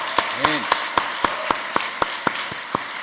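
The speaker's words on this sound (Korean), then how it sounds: "살아계신 하나님께 다시 한번 큰 영광과 감사의 박수를 드립니다." A Korean church congregation at a Friday evening worship service claps in slow, even unison beats, about four per second, while a voice speaks over the clapping.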